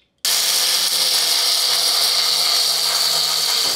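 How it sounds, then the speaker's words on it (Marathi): A mixer grinder starts abruptly and runs loud and steady, coarsely grinding bhagar and sabudana with green chillies into a rough meal, a continuous high whirring roar with no pauses. "आता जितकं शक्य असेल तितकं मिक्सरमध्ये याची भरड काढून घ्यायची"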